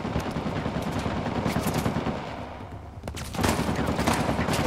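A machine gun nest in Uncharted: The Lost Legacy fires dense, continuous automatic bursts, loud and near. The clatter runs almost unbroken, swelling again near the end.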